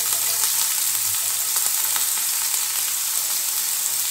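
Carrots, beans and capsicum frying in a pan for fried rice, a constant close hissing sizzle with faint stirring, no talking.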